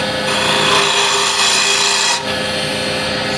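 A hand scraper works over the curves of a turned walnut burl box on the lathe, making a continuous, close, rasping shave with a brief dip near the end.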